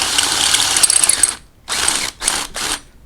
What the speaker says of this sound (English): And just ream it out just a little bit.